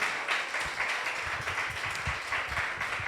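Church congregation applauding together, a steady wash of many hands clapping at moderate loudness, sustained evenly throughout with no talk on top.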